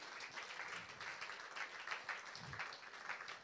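A church congregation applauds together during a worship service, a dense, steady patter of many hands clapping at moderate distance for a few seconds.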